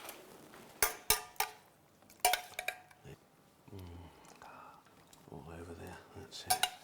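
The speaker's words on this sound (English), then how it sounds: "Let's just spoon that on the top." A spoon scrapes and clinks against a dish while mint syrup is spooned over pineapple carpaccio, giving a few sharp metallic taps and softer scraping strokes, close and fairly quiet, with a voice speaking in between.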